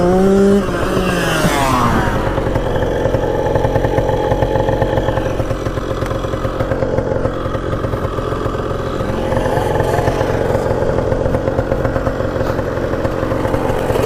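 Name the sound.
Yamaha MX 175 dirt bike engine riding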